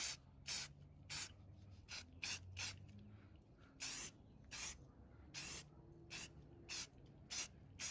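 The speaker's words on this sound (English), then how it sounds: "we're going to go ahead and spray it with some green that we have" Repeated short bursts of green aerosol spray paint hissing close by while painting an AR-15 rifle, about a dozen quick sprays in an uneven rhythm with brief pauses between.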